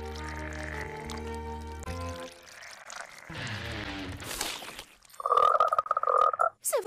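Cartoon frogs croak in a chorus of deep, buzzy tones layered with tonal effects, shifting into a loud, warbling, bubbly croak burst near the end.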